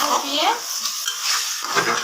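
Meat frying in spiced masala in a pan is stirred with a utensil, giving close scraping strokes over a steady sizzle.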